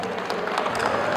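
Applause from an audience at an event, a dense wash of clapping from a crowd, steady and moderately loud throughout the short burst.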